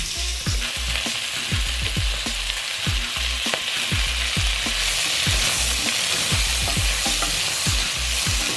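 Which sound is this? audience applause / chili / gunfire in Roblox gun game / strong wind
chili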